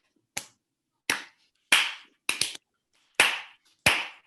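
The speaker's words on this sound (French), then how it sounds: "Les gens qui sont dans le salon applaudissent" Six separate, sharp hand claps with uneven pauses between them, close and fairly loud, from people applauding in a living room. There is no talking.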